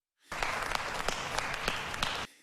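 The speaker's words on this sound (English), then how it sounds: "the Joker starts clapping slowly from his jail cell" The Joker claps slowly and alone from a jail cell in The Dark Knight, several spaced, evenly timed claps that sound close and fairly quiet with no talk.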